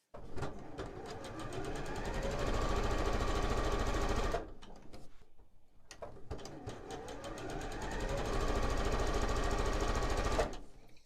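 A sewing machine stitches hourglass quilt block pieces in two rapid, steady runs, separated by a short quiet pause, close and clear with no talking.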